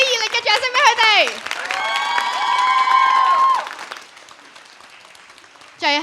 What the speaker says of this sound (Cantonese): 大家再一次俾啲熱烈嘅掌聲俾佢哋。